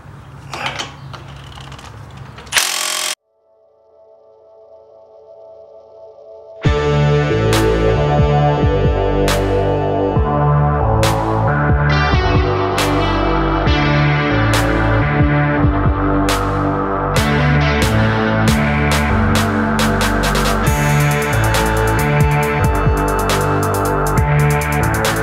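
Ratchet loosening brake caliper bracket bolts on a Dodge Journey front brake, starting after a short silence and then running as loud, rapid, continuous clicking with repeated sharp strokes, close up, no talking.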